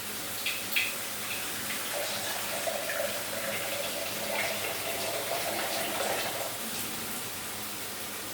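Broth being poured into a pan for katla fish white rezala, a steady close splashing pour lasting several seconds.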